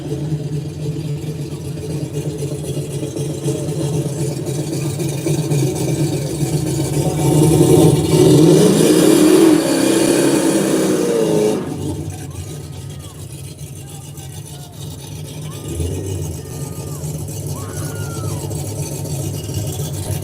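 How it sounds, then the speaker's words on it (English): A rowdy Cutlass race car engine at a no-prep drag race rumbles loud and rough, swelling in a hard rev midway before dropping back to a lumpy idle, with voices talking over it. "Now I get to see my Cutlass. Oh, she sounds rowdy."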